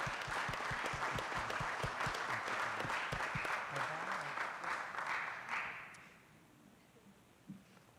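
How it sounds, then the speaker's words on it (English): Dense applause from a city council meeting audience, steady and full for about six seconds before fading out, leaving a quiet room with a single faint knock. "Let's give them another round of applause."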